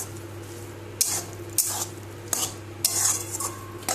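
Small soybean chunks stirred in a metal pan for soybean malai curry, with several sharp spoon scrapes and clinks against the pan over a steady low hum, close and moderately loud, no talking.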